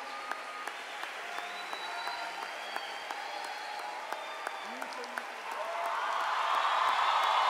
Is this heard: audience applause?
yes